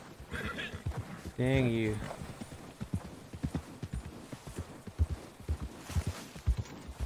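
In Red Dead Redemption 2, a horse whinnies twice, a short call and then a longer, louder neigh, while steady hoofbeats clip-clop throughout and a man mutters briefly.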